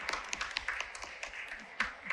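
A church congregation at Sunday Mass gives a brief round of applause for a little girl, with light, scattered hand claps heard fairly faintly in a reverberant hall.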